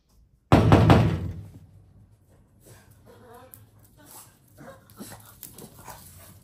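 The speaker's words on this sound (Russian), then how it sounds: "Кто же это стучит?" A loud, sharp burst of knocking on a door opens, followed by a dog's whimpers and soft yelps and some quieter household movement.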